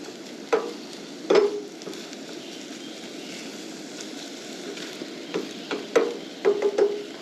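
An egg frying in a pan for a bacon, egg, cheese and tomato bagel sandwich, a soft continuous sizzle broken by scraping spatula stirs and taps, close and moderately quiet.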